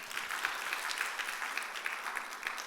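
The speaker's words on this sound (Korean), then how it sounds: "할렐루야, 박수." A church congregation applauding during a sermon: steady, dense clapping from many hands fills the whole stretch at an even level, with no voices over it.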